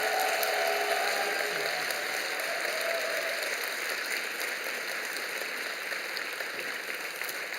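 A church congregation applauds during an evening worship service, a steady hiss of many hands clapping at a moderate distance that holds level throughout, with a faint tone briefly present early on.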